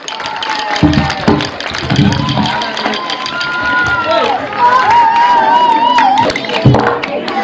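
A gathered crowd at a local community event in Vinukonda claps loudly together, the applause mixed with cheering voices and crowd babble throughout.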